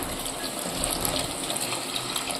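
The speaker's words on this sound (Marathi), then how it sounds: "मिठाचं आणि हळदीचं पाणी मटण शिजवलेलं मी ह्याच्यामध्ये आईने पाणी ओतून घेतलं आहे" Salted turmeric water poured from a vessel into roasted mutton masala for a Satara-style mutton dish makes a continuous, soft gushing splash, close by and without speech.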